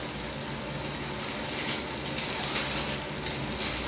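Whole chillies, turmeric and coriander powder sizzle in hot oil in a pan for dhaba-style masala bhindi, giving a steady, close, even frying hiss with no talking.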